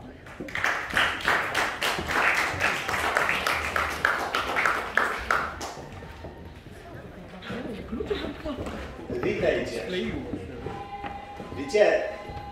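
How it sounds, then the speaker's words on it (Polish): An audience at a folk storytelling contest in Bukowina Tatrzańska, Poland, claps loudly for several seconds, then the applause fades into murmuring voices and scattered noises. "wielkie, wielkie brawa"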